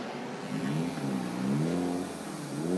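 A race car from a Malaysia Championship Series touring race accelerates out of the pit lane, its engine rising and falling in a steady revving drone, loud and continuous, with no talking.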